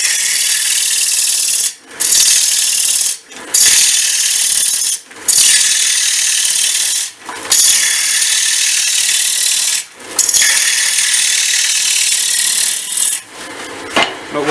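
Wooden workpiece being cut aggressively on a wood turning lathe, a loud continuous rasping, scraping roar that breaks off briefly every couple of seconds as the tool lifts, with no talking.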